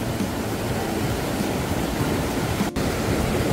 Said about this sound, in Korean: 저 위에 폭포 한번 보세요